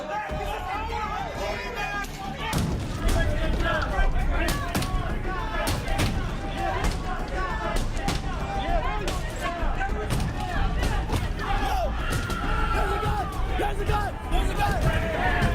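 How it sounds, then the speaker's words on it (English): An angry crowd of rioters at the US Capitol roars and shouts in a constant loud hubbub, with sharp bangs and yells cutting through and voices speaking in the foreground. "the crowd see members of Congress and they get angry"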